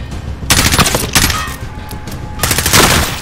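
Rapid automatic gunfire in a Call of Duty: Modern Warfare firefight, loud, close bursts of sustained shooting broken by brief lulls, with no talking.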